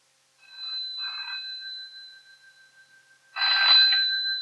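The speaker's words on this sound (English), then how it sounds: "Is that my phone? Yes, we've just been saying it's been going all evening." An old-fashioned telephone rings close by in two bursts of electric bell trilling with a pause between.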